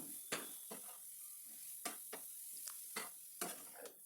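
Grated carrot stirred with chili powder in a pan makes soft sizzling under repeated scraping strokes of a spoon against the metal, close and fairly quiet, with no voices.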